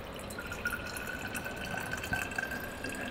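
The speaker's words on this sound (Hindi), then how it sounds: "we are going to pour this water from the top." Water poured from a measuring cup into the top of a Morphy Richards coffee machine, a steady continuous trickling stream, close and even throughout.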